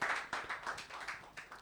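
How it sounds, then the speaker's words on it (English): Audience at a radio sound clash claps for Stonebwoy, a short burst of scattered, uneven hand claps, moderately close, with no voices over it. "A round of applause for Stonebwoy, please."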